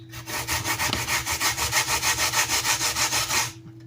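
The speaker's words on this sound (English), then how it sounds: "So I'm going to continue grating my coconut." Coconut being grated by hand while preparing toto the old-fashioned way, a steady rhythmic scraping of about two strokes per second, close and loud for several seconds before stopping.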